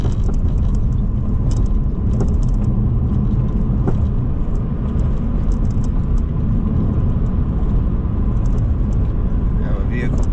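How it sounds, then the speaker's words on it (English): A vehicle overtakes on the right during a drive past a four-way intersection under a bridge on a 45 mph road, heard from inside the car as steady, loud road rumble and engine noise throughout. "Have a vehicle passing me on my right."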